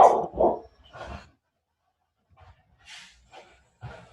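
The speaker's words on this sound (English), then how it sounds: "I was just pausing because of my dogs." Dogs pant and whimper close by in short breathy bursts, with a long quiet gap in the middle and no voices.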